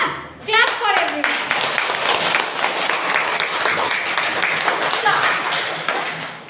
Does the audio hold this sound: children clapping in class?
yes